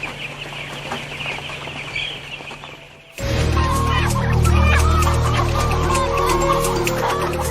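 Many chickens cluck and squawk as they are stuffed into sacks at a crowded, disease-ridden poultry farm, the noise suddenly swelling into a dense, loud chorus partway through.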